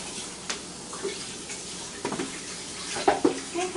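Water running from a kitchen tap, a steady faint splashing hiss with soft clinks and thuds on top, heard close by.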